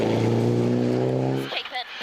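A Class 5 rally car drives a special stage at the Goldrush Rally in Coromandel, its engine holding a steady, close drone for about a second and a half before cutting away, with commentary over it.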